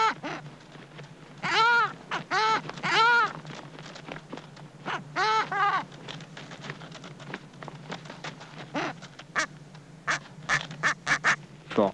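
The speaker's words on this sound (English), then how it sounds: "The unfed chick gets mad at mother," Penguin chicks in Antarctica squabbling with each other and calling to their mother, a run of loud harmonic squawks in bursts, some rapid and repeated, others short and sharp, with quieter pauses between.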